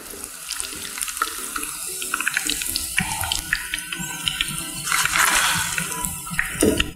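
Chilli chapati pieces fry in hot oil with a constant dense crackling sizzle that swells louder toward the end, close and with no talk.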